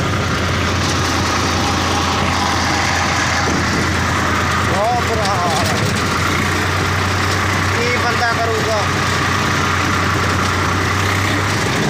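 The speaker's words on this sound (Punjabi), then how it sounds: "ਟਰੈਕਟਰ ਕਿਸੇ ਮੰਗਿਆ ਫਰੈਂਡ ਦਾ" A tractor engine idling steadily with a low, constant rumble, while people talk nearby over it.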